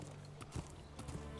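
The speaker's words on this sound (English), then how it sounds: "Horsey." Hooves of a horse in a Game of Thrones video game clop in a quick walking rhythm, several muffled close hoofbeats over a steady low background.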